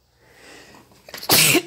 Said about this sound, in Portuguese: Espirrei, não vou tirar, né?